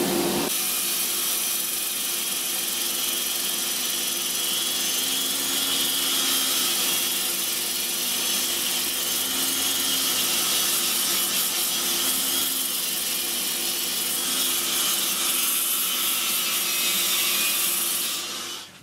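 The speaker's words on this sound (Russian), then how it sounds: "Вот сначала наждачка на 80, потом на 100, 120, 150, 180, 240." Sandpaper working through grits on a walnut bowl spinning on a wood lathe, a steady continuous rasping hiss with a faint motor hum underneath, even and unbroken for the whole stretch.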